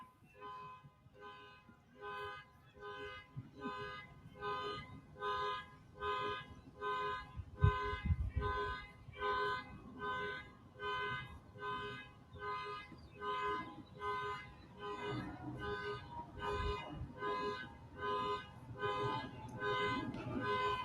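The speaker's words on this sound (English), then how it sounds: "Celebratory car alarm in the background." A car alarm cycles in the background at a New Jersey high school baseball playoff game, Memorial vs Montclair. Steady repeating tonal pulses run throughout, under a commentator's voice.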